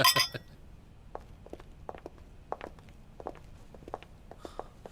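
Glasses clink together once with a bright ringing tone, followed by quiet scattered taps and clicks.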